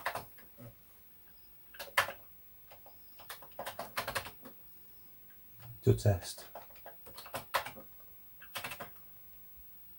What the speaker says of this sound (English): Keyboard feels okay, feels very good, good response to it.